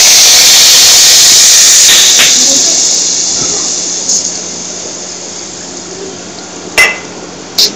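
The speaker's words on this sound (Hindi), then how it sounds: "और ये हमने तड़का लगा दिया है।" Spice tempering hits a pan of potato curry and sizzles loudly up close as a bright, intense hiss, which settles into a quieter simmering crackle with a couple of sharp clinks near the end.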